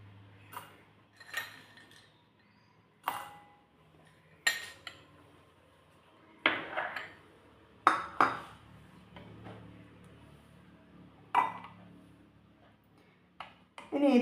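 Dry flattened rice flakes and peanuts dropped into a bowl, giving a series of light clinks and rattles at irregular intervals, fairly close and quiet, with no talk.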